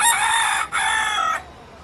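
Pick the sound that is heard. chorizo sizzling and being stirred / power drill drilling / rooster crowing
rooster crowing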